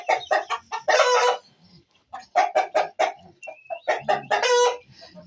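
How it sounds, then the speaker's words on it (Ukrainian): Loud, close rooster calls, harsh repeated squawks and drawn-out crowing-like cries in several bursts with short pauses between. "Чуєте, як Рембо кричить?"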